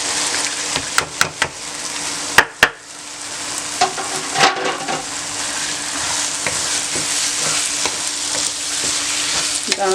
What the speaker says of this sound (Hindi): दाल को आप मिक्स करें अच्छी तरह से